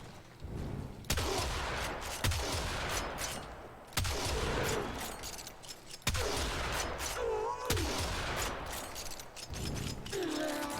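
Heavy blasts from the Corinth shotgun in Warframe, fired in spaced shots roughly every two seconds with mechanical reload clatter between, moderately loud with occasional voices in the mix.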